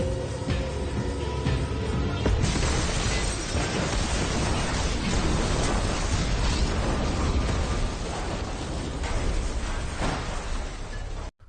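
A warehouse in El Camino is blown apart after a gas cylinder catches fire, a sustained roaring blast with crashing debris that holds at full loudness for several seconds before cutting off.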